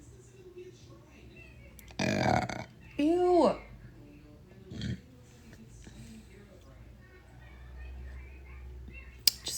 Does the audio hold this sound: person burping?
yes